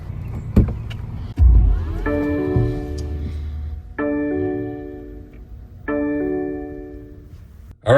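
Inside a car, electric power windows whir up and down in three separate runs, each a steady motor hum of a second or two, with thuds and door clunks before them and no talk.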